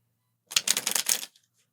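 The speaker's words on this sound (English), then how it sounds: "connect to the cards by listening into the sound of them being shuffled" A deck of tarot cards being shuffled in one quick riffle, a dense burst of crisp flapping and clicking lasting under a second, close and alone in otherwise silent surroundings.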